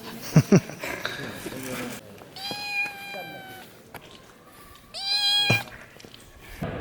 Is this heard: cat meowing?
yes